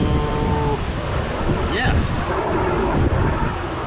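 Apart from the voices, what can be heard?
strong wind blowing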